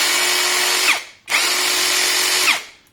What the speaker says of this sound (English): You can use it as a screw gun as well, a normal standard screw gun.